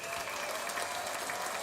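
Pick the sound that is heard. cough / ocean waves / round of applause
round of applause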